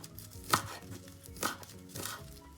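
Onions being chopped with a knife on a board in a home kitchen while cooking tomato spaghetti, a few uneven, separated cuts with crisp close thuds and quieter scraping between them, no talking.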